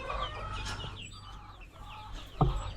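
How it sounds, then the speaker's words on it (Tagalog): Chickens of a second batch cluck in their pen, a steady run of close, overlapping clucks with a sharper louder call near the end. "Ito rin yung mga alaga nating second batch na manok"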